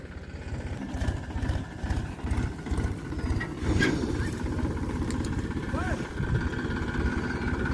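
A motorcycle engine runs at a low, throbbing idle as the bike is moved at a trench worksite in Pune, a steady rumble with slight surges, heard close under people talking.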